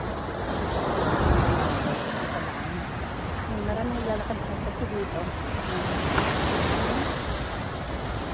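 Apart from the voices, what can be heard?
sea waves on the shore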